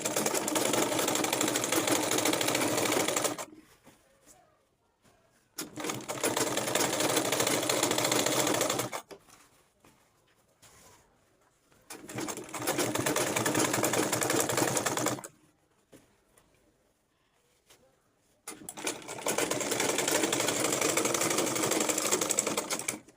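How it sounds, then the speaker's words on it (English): A sewing machine stitches along a straw mat turban cap in four loud, steady bursts of running stitches, each several seconds long, separated by quiet pauses as the fabric is repositioned. "So I'll be taking it to my sewing machine, sew from that end to this other end."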